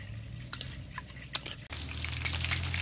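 A sizzling fish sauce mixture being stirred in a hot pan for a frog dish, steady frying hiss with scraping and liquid sounds, a brief break and then louder bubbling.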